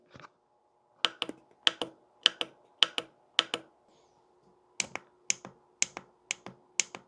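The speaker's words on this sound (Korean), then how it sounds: "전원 버튼 소리는" Crisp, close clicks of the power button on a Corsair 6500D Airflow PC case, pressed repeatedly in quick pairs and small groups with brief pauses, alone in a quiet room.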